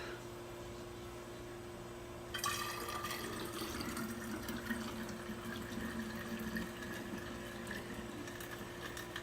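Homemade kombucha fizzing and hissing as it is poured into bottles during a first bottling for second fermentation, a steady close bubbling wash that jumps louder partway through and carries on under a low hum.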